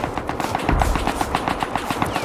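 Rapid automatic gunfire in a video game raid, a steady stream of sharp shots with a brief heavier burst, loud and close.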